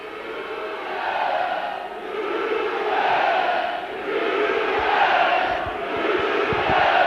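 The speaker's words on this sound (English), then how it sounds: "just listen to the roar of the crowd go up" A rugby league crowd at a Hunslet versus Keighley match roars in swelling waves during the second half, a broad, distant-sounding mass of voices rising and falling.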